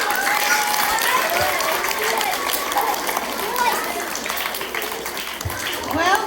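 A school assembly audience applauds pupils with dense, continuous clapping at close range, steady for several seconds, with children's voices and cheering mixed in.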